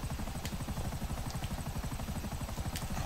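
A video game helicopter drones on steadily with fast, even rotor chopping, loud and close throughout, with a few faint blips on top and no voices.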